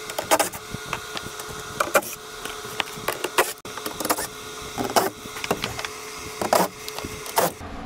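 Bolts are removed from the undercarriage protection plate of a Tesla, with repeated sharp ratcheting bursts and clicks of a tool, evenly spaced and close, between quieter handling noises.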